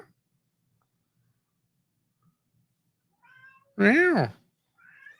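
A house cat gives one loud, close, drawn-out meow with rising and falling pitch, preceded and followed by soft, faint chirpy mews against a quiet indoor background.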